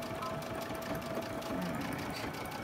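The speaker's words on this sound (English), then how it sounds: "Let's backstitch it here." Sewing machine backstitching fabric while making a bee-shaped pincushion, a steady close mechanical whir with rapid needle chatter running without a break for the whole stretch, no talking.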